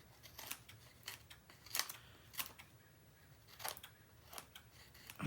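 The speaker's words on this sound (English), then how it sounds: "I'm trimming off my ends here." Scissors trimming paper ends for a mini album: a series of crisp, close snips, about eight cuts spaced unevenly, each with a quick crunchy slice, quiet in between.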